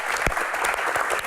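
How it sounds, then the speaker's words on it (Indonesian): An audience at a Q&A rally for an athlete breaks into applause, a brief, full burst of many hands clapping with no speech over it. "Oke, tepuk tangan."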